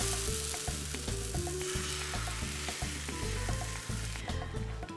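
Crepe batter sizzling and frying in a lightly buttered pan, a steady close crackle laced with rhythmic tapping or scraping, no voices.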